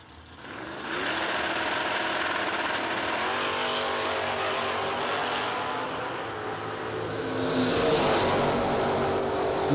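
A 1978 Malibu and a Mustang launch side by side at a no-delay drag race, their engines roaring loud and continuous, then rising in pitch as they pull away down the track.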